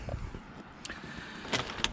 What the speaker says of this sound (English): It's this dinky little tire pump, but it's surprisingly powerful.